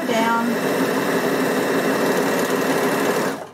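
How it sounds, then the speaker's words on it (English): An overlocker runs steadily, stitching down a seam on a dress, its fast whirring motor holding one level for about three seconds before stopping. "So, single overlock, sew down."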